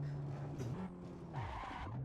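Toyota GR Yaris tires squealing under hard braking in Assetto Corsa, a sustained rising and falling skid whine over the engine's steady drone, loud and continuous.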